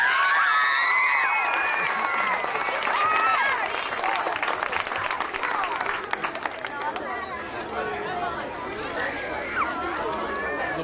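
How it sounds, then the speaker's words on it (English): Crowd at a school Safe Routes to School walk event bursts into loud sustained clapping mixed with cheers, chatter and children's shouts, slowly tapering toward the end. "So give them a big round of applause."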